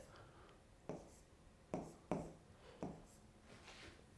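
Stylus or fingertip strokes on a Clevertouch interactive touchscreen during a brainstorming session, heard as four or five soft, separate taps and scratches spaced about a second apart over faint room hiss.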